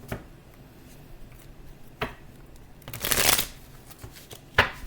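Tarot cards shuffled by hand in a quiet room, soft riffling and brushing with a louder flurry in the middle and a sharp snap near the end.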